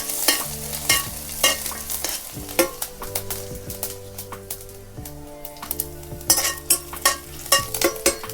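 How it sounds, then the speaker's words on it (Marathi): Garlic sizzles in a pan with cumin seeds while a spoon stirs and scrapes against the metal, producing repeated sharp clicks and taps over a continuous frying hiss, close and fairly loud. "आता लसूण टाकून घेते लसूण पण चांगलं परतून घ्यायचं"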